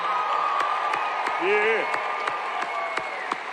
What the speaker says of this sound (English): Give a real great applause for our brother